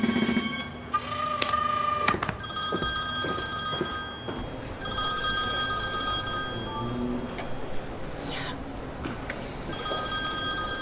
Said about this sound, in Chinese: 严立文电话